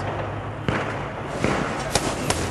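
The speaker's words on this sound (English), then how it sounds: "There are still celebrations going on here in Green Square, lots of celebratory gunfire" Celebratory gunfire in Green Square, Tripoli, Libya: a few sharp cracks and thuds at irregular intervals, moderately distant, over a constant roar of crowd and street noise.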